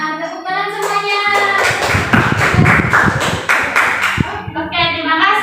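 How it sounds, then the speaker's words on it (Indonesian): Children in a primary school classroom clap together in a loud, close burst of rhythmic hand claps, with voices and tonal sounds around the clapping before and after. "Tepuk tangan semuanya."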